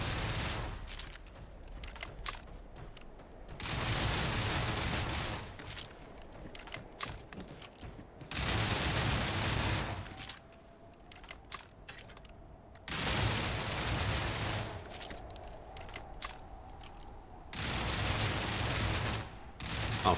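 Gunfire aimed at shooting targets in the space game Starfield, coming in four separate loud bursts of rapid, dense shots with quieter gaps of ambient game sound between them.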